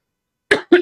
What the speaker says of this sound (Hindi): खांसी आने लग जा रही है मुझे लगातार आपको बोलने से